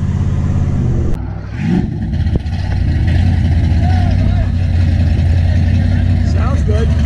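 A pickup truck's engine idles and revs steadily at an outdoor hot rod car show, a rich, continuous rumble that stays loud throughout while people talk nearby.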